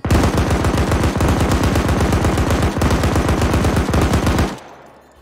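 A long, unbroken burst of machine gun fire in a PvP video game, rapid evenly spaced shots, loud and close, stopping abruptly near the end with a short fading tail.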